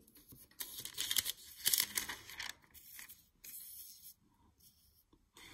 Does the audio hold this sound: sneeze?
no